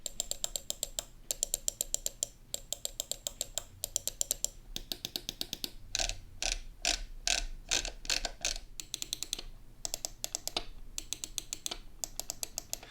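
Zowie S1 matte black gaming mouse, crisp rapid button clicks in quick rhythmic bursts mixed with ratcheting scroll-wheel ticks, close and clear with no voices.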